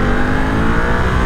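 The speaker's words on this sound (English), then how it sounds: "It's got a good little burble about it as well" A 2022 Ducati Monster motorcycle's engine gives a loud, close, steady throaty burble with a rich low rumble, heard on its own with no talking.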